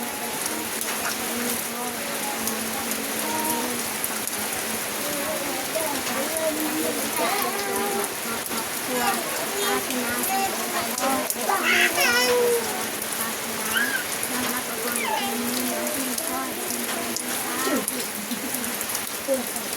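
Steady rain falls throughout, a dense hiss of drops pattering on surfaces around an outdoor spot in rural Thailand, with a voice faintly audible under the rain in places.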